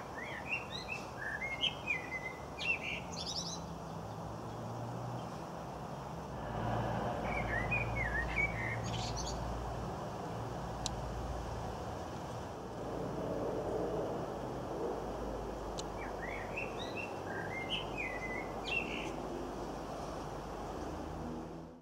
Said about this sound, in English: I resisted talking over that because the bird sounded lovely.